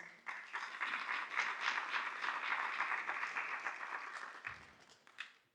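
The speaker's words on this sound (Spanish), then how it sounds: "Los recibimos con calurosos aplausos" An audience breaks into warm applause to welcome a speaker at a municipal event in Cusco, a dense, sustained burst of clapping that swells and then tapers off.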